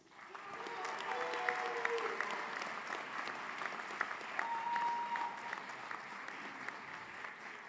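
An audience at a university commencement applauds its graduates: dense, sustained clapping from a large crowd that holds steady for several seconds with a faint murmur beneath.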